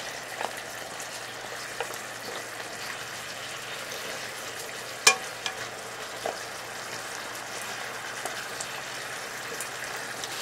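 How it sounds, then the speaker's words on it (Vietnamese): Pork ribs simmer in a fish sauce glaze in a pan, giving a soft, steady sizzle and bubbling hiss with a few faint clinks and pops, no voices. "mình rim đến khi nào nước sốt sánh lại như thế này"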